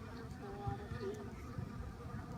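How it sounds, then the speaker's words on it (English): Honey bees buzz in a dense, continuous drone while cleaning out a dead-out hive being salvaged, with a steady hum close by and no voices. "Look at the bees. They're cleaning it up. They're everywhere."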